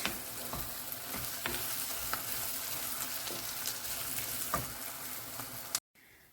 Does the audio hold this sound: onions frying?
yes